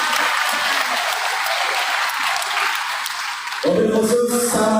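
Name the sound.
audience applause at a parenting seminar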